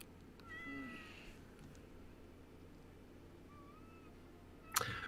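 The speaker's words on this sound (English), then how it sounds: "why can I hear a cat?" A cat meows indoors during a tabletop role-playing game session, giving a soft drawn-out mew, then a fainter second one, followed by a sharp clatter near the end.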